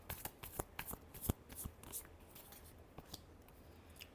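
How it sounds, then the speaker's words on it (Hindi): Tarot cards being shuffled by hand at close range, quiet crisp riffling snaps and flicks in an irregular series, soft overall with no speech. "Last shuffle."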